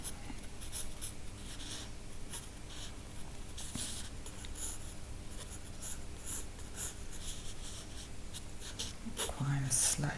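Pencil scratches across paper while an African animal is sketched, with steady soft scribbling and short strokes throughout, close but faint, with a voice speaking quietly underneath.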